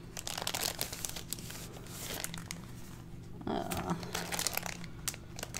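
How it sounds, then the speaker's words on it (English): Paper envelopes being handled at a craft table, giving close, loud crinkling and rustling with irregular crisp bursts and brief pauses, without talk. "It's pretty loud with me and these envelopes."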